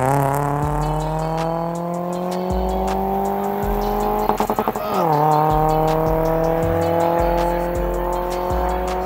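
Drag race between a Toyota Auris and a Volkswagen Polo TDI at a night event, loud sustained engine roar with gear shifts stepping the pitch, a brief tire squeal midway, then continued hard acceleration.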